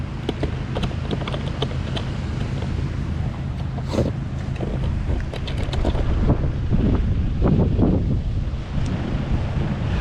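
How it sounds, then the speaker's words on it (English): Gusting wind buffets the microphone while sea waves surge and break nearby, a continuous loud wash with occasional sharper splashes. "Now it's windy and the sea is energetic."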